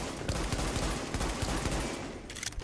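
Dense, continuous automatic gunfire from the Tenebrae high-end weapon in The Division. It rattles close and loud throughout in rapid, overlapping cracks with no pauses.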